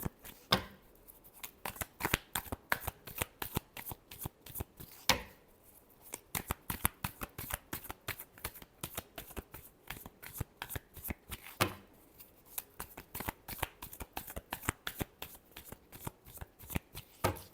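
Tarot cards being shuffled by hand, a rapid series of crisp riffling flutters and slaps in irregular bursts, close and quiet, with no voices.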